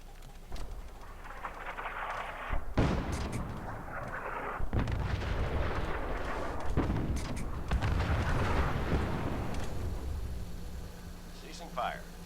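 Heavy artillery shelling in Fallout 4, several deep booming blasts spread over the stretch with rumbling aftermath and bird-like game chatter, a voice speaking over parts of it.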